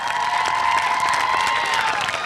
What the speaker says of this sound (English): a nice round of applause for everybody participating today